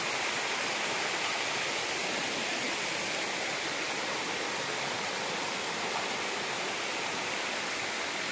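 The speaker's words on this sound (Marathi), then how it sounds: "पाण्याचा खळखळाट." Continuous rushing of a stream in dense forest, a constant broad splashing flow that stays even and moderately loud from start to finish.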